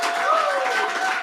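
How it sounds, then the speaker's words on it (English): An audience applauds for a celebrated guest at a live Q&A event, a dense, steady wash of clapping at close range with crowd noise mixed in, continuing for the whole moment. "Let's give him a round of applause again."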